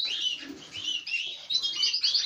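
Birds in an aviary chirp and tweet in quick, bright bursts, several calls overlapping up close with brief pauses between flurries.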